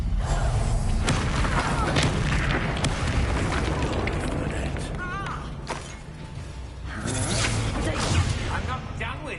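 Bombarda spell explosions in the Hogwarts Legacy video game, repeated heavy booms and crashing blasts amid magical whooshes and combat effects, with a voice speaking during the action.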